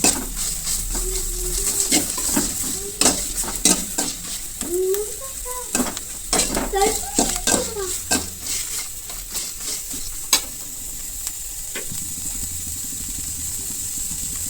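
Dried curry leaves and coriander sizzle in hot oil as they are stirred in a pan, a steady close hiss broken by scraping stirs and clinks, for a village-style spicy chilli chutney.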